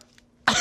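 A single short, harsh cough bursts out abruptly after near silence, close and loud.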